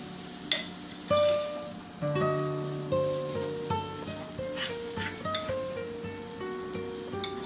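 Mashed ingredients with chilli powder being stirred in a sizzling pan, close scraping and clinks of a spoon against the pan in an uneven rhythm over a soft fry.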